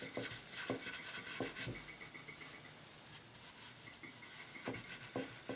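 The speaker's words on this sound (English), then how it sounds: "Any excess I just scrape back into my cup because I can reuse it." Timbermate wood filler being scraped off swamp ash and back into a cup makes quiet, rhythmic scraping strokes with small clicks, close by in a hushed room.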